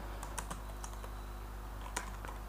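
Someone types Python code on a computer keyboard, giving soft, close keystroke clicks in a quick, uneven rhythm over a low, steady electrical hum.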